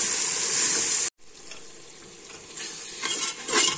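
Salted onion masala gravy sautés in a pressure cooker for egg biryani with a loud, steady sizzle. The sound cuts out briefly after about a second, and stirring scrapes rise toward the end.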